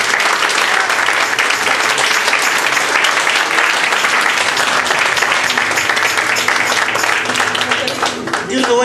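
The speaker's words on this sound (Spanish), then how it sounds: "Denle un fuerte aplauso al Señor." A church congregation at a night vigil claps and applauds loudly and continuously, a dense roar of hands filling the room with voices mixed in throughout.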